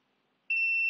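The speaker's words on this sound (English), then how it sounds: "the device gives 2 beeps" After a brief silence, a portable dental X-ray device gives a single sharp electronic beep during a button reset, high-pitched and close, holding steadily then cutting off abruptly.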